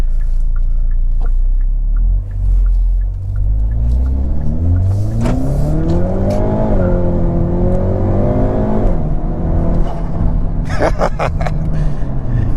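Hyundai Veloster N with a dual-clutch transmission, turbocharged front-wheel drive of almost 300 horsepower, accelerating hard from the cabin, engine rumble climbing through the revs, then a shift and a rising pull again, turbo whoosh faintly under the engine.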